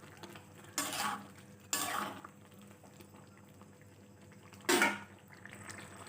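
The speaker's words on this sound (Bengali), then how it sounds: "হলুদ দিয়ে ভালোভাবে নেড়ে চেড়ে আমি মিশিয়ে নিচ্ছি।" Lentils with turmeric being stirred in a pot for Bengali bhuna khichuri, giving three short scraping, clattering bursts of a spoon against the pot over faint kitchen background.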